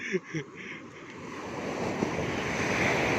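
Strong ocean waves roar with gusty wind, the surf swelling louder and steadier throughout, after a couple of brief voices at the very start.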